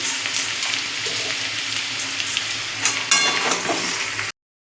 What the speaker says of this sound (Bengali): এবার আমি এর মধ্যে একটু চিনি দিয়ে আরেকটু ভেজে নেব